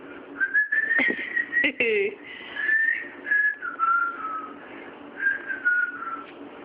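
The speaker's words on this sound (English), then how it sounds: "You gotta whistle while you do it too." A person whistles a wandering, sliding melody close by, with a couple of sharp clicks or knocks partway through.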